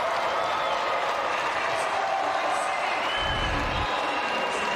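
Crowd at a Minnesota Class AA state semifinal basketball game cheering and applauding, a dense steady wash of clapping and shouts filling the whole span, loud and continuous.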